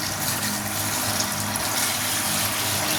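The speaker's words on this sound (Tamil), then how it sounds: "தண்ணி போட்டுக்கலாம்" Water is poured into a cooking pot holding a spiced yogurt, coriander and mint mixture for a rice dish, a steady close gushing splash lasting several seconds without pause.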